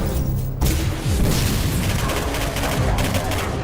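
Sustained heavy gunfire and booming impacts in the first-person shooter Singularity, loud and continuous with overlapping shots and blasts throughout.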